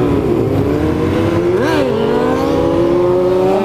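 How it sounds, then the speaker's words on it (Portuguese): Motorcycle engines roar loudly and continuously as they speed by, one whining past with a rising and falling pitch midway. "Olha o tanto de moto"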